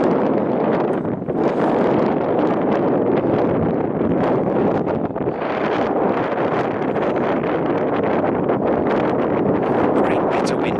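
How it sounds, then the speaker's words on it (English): Strong, continuous wind buffeting the microphone at the top of a castle above water, a steady roaring rush with gusty fluctuations and no pauses. "Getting very windy again."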